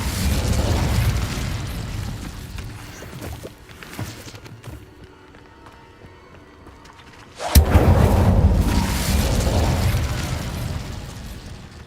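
A fire spell cast in the Hogwarts Legacy video game sounds as a sudden loud whooshing burst about midway through, followed by a sustained roaring crackle, after a stretch of busy, rumbling game action and a quieter lull.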